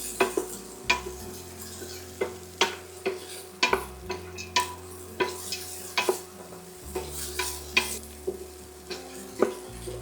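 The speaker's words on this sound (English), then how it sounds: "so we just fry them just for a minute" Bay leaves and other ingredients for corned beef fry in a pan under a steady soft sizzle, while a utensil stirs and taps the pan in a regular rhythm of sharp clicks, with no talking.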